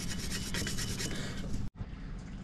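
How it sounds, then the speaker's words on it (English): A wire brush scrubs corrosion off the distributor of a 1992 Chevrolet C1500 small-block V8 in rapid, rhythmic rasping strokes, close and fairly loud, broken by a brief pause near the end. "So just getting a wire brush and going to town on it."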